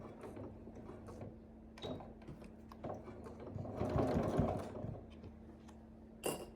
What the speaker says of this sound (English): Sewing with a 1/4 inch seam allowance.